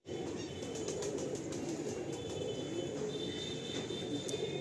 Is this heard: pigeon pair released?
yes